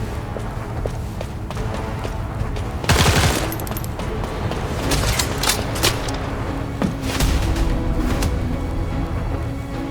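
Automated turrets firing in the video game The First Descendant, a dense, loud barrage of rapid gunfire bursts with sharp impacts over a constant rumbling game soundscape.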